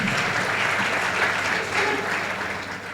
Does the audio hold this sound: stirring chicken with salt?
no